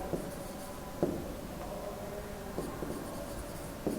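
A pen or pencil writes by hand on paper during a maths lesson, giving soft continuous scratching with a few tapping strokes, fairly faint and close.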